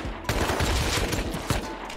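Bursts of rapid gunfire from a video game crackle over about two seconds, with dense fusillade-like volleys and a sharp shot near the end, moderately loud and unaccompanied by clear talk.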